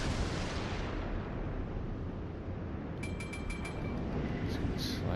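Warship guns firing in the naval video game World of Warships, a deep rumbling blast with a long booming tail, followed by a few short bright pings from the game interface.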